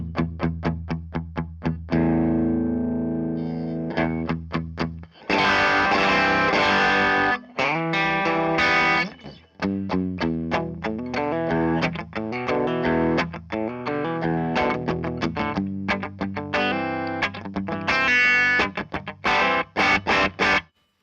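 Electric guitar runs through a Pettyjohn Chime MKII Deluxe overdrive pedal at a low-gain setting, opening with a few separate plucked notes and then moving into strummed chords and ringing phrases, lightly driven and loud, with no voices.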